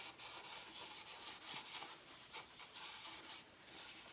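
Hand sanding an oak bowl with super extra fine abrasive over sanding sealer, a steady soft rubbing hiss with rhythmic back-and-forth strokes, close and continuous without speech.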